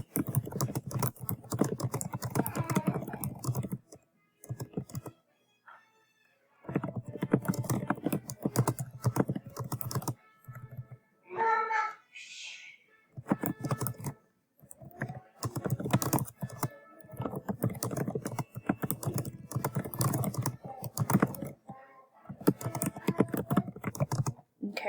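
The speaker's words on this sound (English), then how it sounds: "Okay, so I'm going to type what I want to type." Typing on a computer keyboard, close and clear, with bursts of rapid key clicks separated by short pauses and a brief mid-way break.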